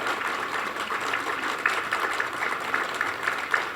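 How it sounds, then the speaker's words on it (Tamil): A seated audience at a Tamil speech event claps continuously, an even patter of many hands at moderate volume throughout, with no voices standing out. "இடைவிடாத ஒரு நிமிடம் நீங்கள் கைத்தட்டி உங்களுடைய நன்றியை பதிவு செய்ய வேண்டும்"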